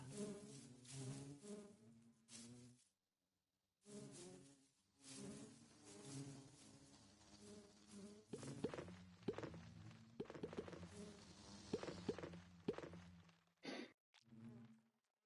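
Bees in the Minecraft video game, with soft buzzing and breathy game sounds coming in repeated short bursts, broken by brief silences, and no talk heard.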